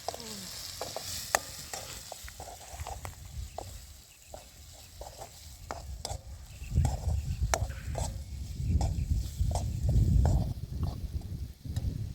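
Fish frying in oil with chilli powder, turmeric and garam masala while being stirred, a continuous sizzle with regular scraping and tapping of the utensil against the pan, growing louder and busier toward the end.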